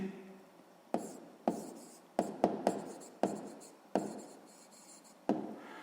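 A pen writes by hand in a notebook while working a sixth-grade math exercise, making close, crisp scratches with sharp tapping onsets at irregular intervals.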